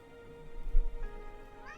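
A single short cat meow in a farming video game rises briefly over a quiet background hum, with no voices present.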